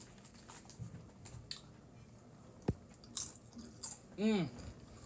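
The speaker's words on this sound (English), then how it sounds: "Let's see how the Doritos measure up." Someone munches Doritos tortilla chips up close in a quiet room: sporadic crisp bites and crunches, soft chewing in between, and a brief squeaky chirp near the end.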